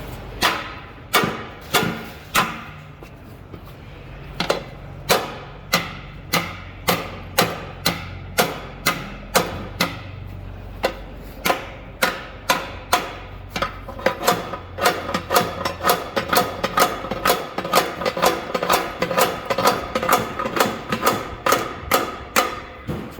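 Repeated hammer blows on a car wheel in a drift-event pit, struck through a piece of wood while the car sits on a jack; a long series of sharp, loud, fairly regular knocks that speed up toward the end.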